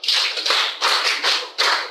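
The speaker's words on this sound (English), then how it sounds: "Clap for yourself." Schoolgirls in a secondary school classroom clapping together in a rhythmic pattern, four or five distinct bursts of quick claps in close succession, crisp and near.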